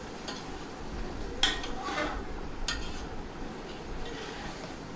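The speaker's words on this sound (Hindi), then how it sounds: "अब चिकन को डालकर मैं इसमें अच्छी तरह भूनूंगी।" Chicken is stirred and fried in a pot for yakhni pulao, with a few scraping clinks of a spoon against metal over a soft, steady background hiss.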